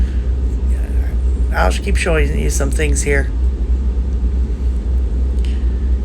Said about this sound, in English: the engine noise is so loud because I got the two big stacks behind me